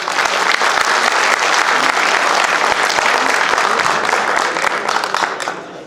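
A large audience applauds a speech at a Pashto culture family show at PNCA Islamabad, with dense, loud, continuous clapping that holds steady and tapers slightly at the end.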